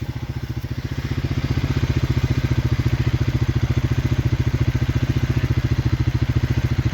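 Magnum tractor pulling a vertical tillage implement through a field, its engine throbbing in a steady, loud, rhythmic low pulse close by, with faint clattering over the top.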